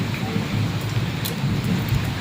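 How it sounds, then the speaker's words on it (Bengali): Heavy rain falls at night amid widespread flooding: a constant, close wash of rain on surfaces with a few sharp droplet spatters. "প্রচণ্ড বৃষ্টি হচ্ছে"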